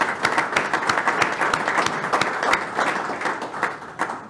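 A room at a Dynamo press conference applauds new general manager Pat Onstad, a small crowd clapping steadily and close for several seconds with distinct individual claps audible.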